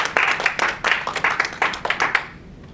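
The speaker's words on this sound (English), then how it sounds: "Let's give Teresa a little round of applause too" A small audience claps for Teresa at an informal training session, a short burst of close, crisp handclaps that fades out within about three seconds.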